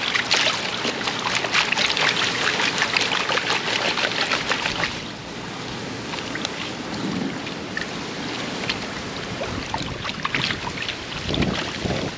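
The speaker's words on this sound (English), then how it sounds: "Oh, it's getting windy." Strong wind buffets the microphone in a steady broadband roar, easing slightly midway then gusting again, with no voices.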